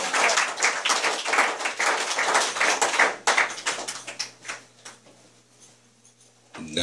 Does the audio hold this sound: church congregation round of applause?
yes